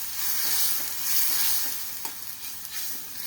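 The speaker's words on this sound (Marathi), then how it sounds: "आपण फ्राय करून घेणार आहे छान छान मेल्ट झाली तेल सुटेपर्यंत असे हलवत राहणार आहे मंद आचेवर" Drumstick vegetable is stirred and fried in oil on a low flame: a loud, dense sizzle that swells and eases as it is turned, with small clicks of the spoon toward the end.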